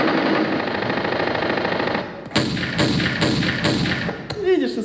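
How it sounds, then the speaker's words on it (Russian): A rapid burst of stage gunfire effects rings out in a staged comedy sketch at a live KVN final, a quick series of sharp bangs over a noisy crowd and voices. "Мужики, стреляй в него"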